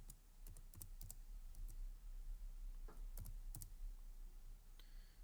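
Typing on a computer keyboard while entering an Excel formula, quiet irregular clusters of close key clicks over a low background hum.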